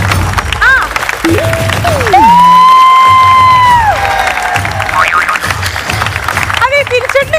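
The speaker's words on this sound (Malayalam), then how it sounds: "ഒന്ന് കൈയടിച്ചെടുക്കണേ." Studio audience clapping and cheering on a Malayalam TV game show, a broad steady wash of applause running throughout, overlaid with loud cartoon boing and sliding whistle effects.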